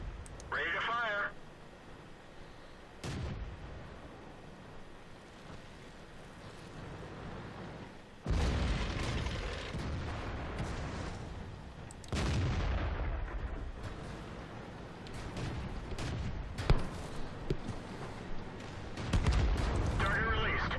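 Tank in the game World of Tanks taking hits from distant enemy fire: several heavy booming impacts and blasts spaced irregularly over low rumble, with a voice talking at times.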